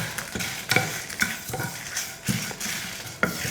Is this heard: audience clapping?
no